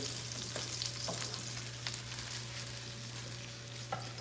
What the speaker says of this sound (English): We're gonna saute our veggies in here, and it's just going to make everything taste really, really good.